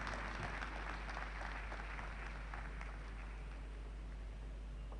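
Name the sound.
applause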